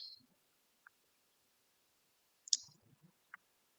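A computer mouse clicks a few scattered times, sharp and faint against near silence, while selecting cells in spreadsheet software.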